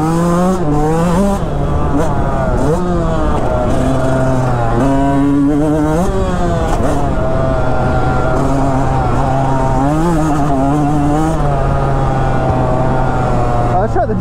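A Yamaha YZ125X motorcycle engine revs up and down during a test ride, its close, continuous buzzing note rising and falling smoothly through the throttle range.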